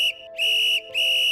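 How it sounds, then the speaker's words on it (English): A whistle is blown three times in quick succession at a town pool, each blast loud and shrill, sustained and separated by brief gaps, with no other sounds. "I grab the whistle hanging around her neck and blow it 3 times to capture everyone's attention."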